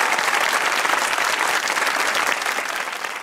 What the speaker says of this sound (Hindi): सबको थैंक यू, तालियां हैं।